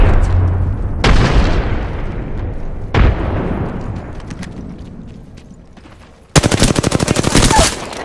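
Apex Legends combat: two booming frag grenade explosions with long rumbling decays a couple of seconds apart, followed by a loud rapid burst of automatic gunfire, all close and intense.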